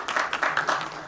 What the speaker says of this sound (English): Again, big round of applause for them.